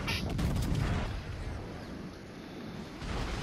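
Warship main guns fire in the naval video game World of Warships Legends, with a heavy booming burst at the start that rolls into a sustained rumbling wash and then swells again near the end.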